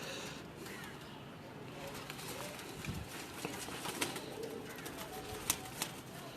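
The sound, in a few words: pigeon cooing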